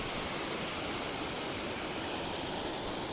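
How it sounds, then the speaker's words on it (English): Continuous rushing water roars as a dense, steady wash of noise, Little Illinois River Falls heard from close by near Cave Junction, Oregon, with no voices. "Follow the sound of rushing water along the riverbed to visit the falls."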